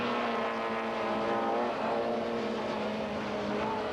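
A 1993 BMW M3 touring race car at Killarney circuit, with other saloon racers, sustained high-revving engine drone holding a steady pitch, loud and close with a slight rise near the end, no talk.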